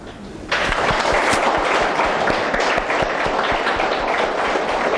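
Audience applause at a talk on dying bursts in after a moment of quiet and holds as a loud, dense, steady wash of many hands clapping.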